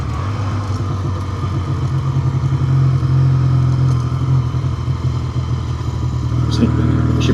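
A 1962 Triumph Tiger 90 motorcycle rides along a road, its engine giving a steady, loud rumble throughout with wind noise and a slight shift near the end.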